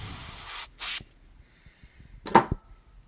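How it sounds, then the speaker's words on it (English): Carburetor cleaner sprays from an aerosol can in three sharp, loud, close-up hissing bursts. Two come in quick succession and a shorter one follows after a pause. "Maybe spray a little bit more carburetor cleaner to get any of the other gunk off of it."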